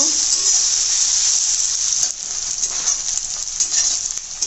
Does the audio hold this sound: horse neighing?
no